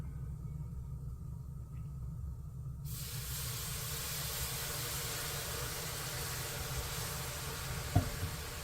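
Steam hisses steadily while green bean casserole cooks, a quiet broadband hiss that swells sharply louder partway through and then holds, with a brief knock near the end.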